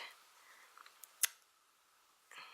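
A paper trimmer slicing through patterned card during scrapbook tag making, one quiet sharp snip standing out in a near-silent room, with faint handling rustles before and after.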